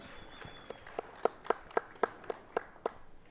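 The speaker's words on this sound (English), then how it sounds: "Keep your round of applause going for Janet Ritzy." Scattered applause for a tournament player at the Ashton Twins Classic: a small handful of distinct claps, fairly faint and spaced, with a few sharper ones in the middle.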